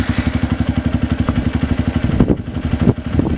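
A 2010 Kawasaki KLX110 dirt bike engine idles up close after an oil change, with a loud, steady, rapid putter and light mechanical clatter.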